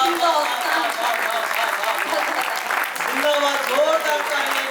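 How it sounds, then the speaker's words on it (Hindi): Audience applause at a Hindi national kavi sammelan and mushaira, following a patriotic poem by poet Naresh Sharma; steady clapping runs throughout with a voice speaking over it. "जोरदार तालियां"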